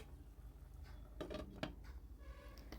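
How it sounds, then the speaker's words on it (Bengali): A metal lid set onto a cooking pot of cumin rice, with a few faint clinks and a light clatter, very quiet and close. "এরপরে দিয়ে দেব ঢাকনা"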